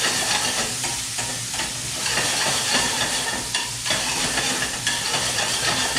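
Applewood smoked bacon sizzles and fries steadily in a pan while it is stirred. The frying is loud and continuous, with a broadband hiss and soft scraping as the bacon is moved around. No one speaks.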